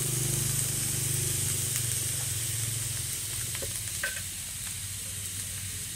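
Vegetables stir-frying in a hot pan for vegetarian noodles, a dense steady sizzle and hiss throughout with occasional clinks and scrapes of stirring, close and continuous.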